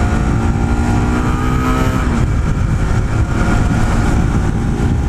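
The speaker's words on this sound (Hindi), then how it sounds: "अभी थ्रॉटल का रिस्पॉन्स दे रहा हूँ जैसे" A Bajaj Pulsar NS200 motorcycle engine, ridden on an empty road, revs loudly and steadily as the throttle is worked, its pitch rising and then settling into a sustained roar close to the listener.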